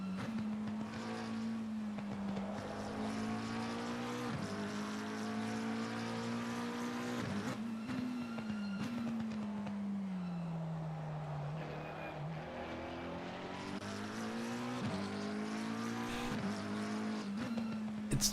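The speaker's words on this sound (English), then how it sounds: "Let's have a listen to this McLaren." McLaren GT race car engine in Assetto Corsa Competizione, racing at Brands Hatch in the rain, a loud steady engine drone that rises and falls through repeated gear shifts and revs, running alone for the full stretch.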